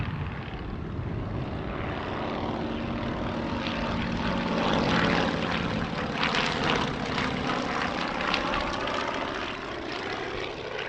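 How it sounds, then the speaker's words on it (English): The only airworthy Avro Anson Mark I, a restored wartime twin-engine propeller aircraft, flies during a Battle of Britain airshow display at Duxford, its propeller drone a steady, moderately distant hum that swells slightly mid-pass, with no voices. "This Avro Anson Mark I, over from the Czech Republic and making its British debut, was the star of Sunday's flying display."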